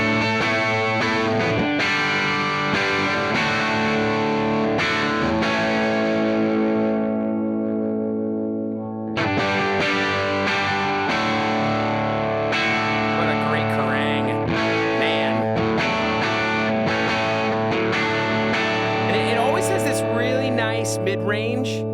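Electric guitar played through a Divided by 13 JRT 9/15 amp, loud sustained chords and ringing notes with mild drive and chorus-like shimmer, one brief pause partway, then continuous strumming.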